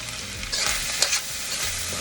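Chicken fried rice with a little sriracha is stirred and tossed in a hot pan, giving a steady sizzle with scraping stir strokes that swell in the middle, close and continuous, with no talk.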